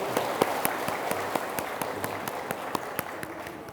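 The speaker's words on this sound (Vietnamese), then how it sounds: "mời mục sư đứng và vỗ tay để chào đón mục sư" Church congregation at a Bible school graduation ceremony applauds to welcome a pastor, steady moderately distant clapping with sharper individual claps standing out.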